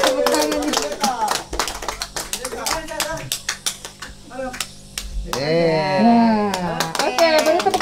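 Scattered clapping from an audience at a cheerful gathering with people living with mental illness, brief bursts of sharp claps mixed under someone speaking loudly over a microphone.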